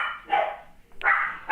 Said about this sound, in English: The damn dogs are still circling